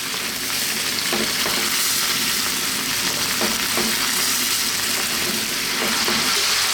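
Sweet and sour tofu stir-frying over very high heat with ketchup and sesame oil, a loud, steady sizzle filling the whole stretch, with a few soft scrapes of stirring and no voices.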